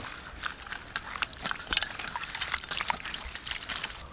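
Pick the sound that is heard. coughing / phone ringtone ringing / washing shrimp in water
washing shrimp in water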